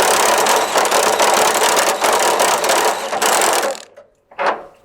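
An impact wrench hammers a socket that slips on a rounded nut during MG TF subframe removal, a loud, continuous rattling burst for several seconds, then cutting off, followed by a short second burst.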